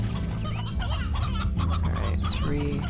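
Briar hens in the Slime Rancher video game cluck and chatter in a dense, steady flock, close and continuous over a low background hum, with no talking.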